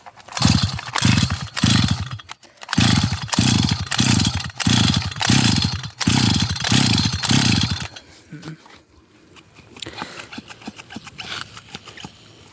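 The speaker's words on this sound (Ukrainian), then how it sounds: "Кажу бензопила, мотокоса. Зараз буду пробувати нею." An Expert BC 330 petrol brush cutter engine sputters in repeated loud revving bursts, then drops to a lower, uneven idle toward the end.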